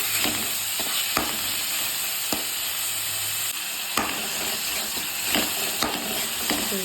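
Onions fry for carrot biryani in a pan, hissing steadily and loudly throughout, while a spoon stirs through them with irregular scraping knocks and clinks.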